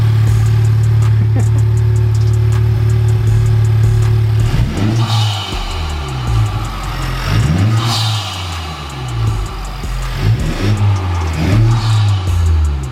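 Honda Civic Type R fitted with a PRL intake, idling loudly up close before revving hard several times, each rising pull ending in a sharp drop, with intake roar through the gear changes.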